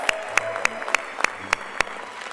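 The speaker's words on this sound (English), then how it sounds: "another round of applause for our awesome family medicine grads" A small audience at a medical residency graduation ceremony applauds the family medicine graduates with a few sparse claps at an even, slow pace, faint and somewhat distant.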